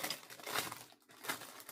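Paper budget envelopes are handled up close, giving faint crinkling and rustling in short bursts with a brief pause in the middle.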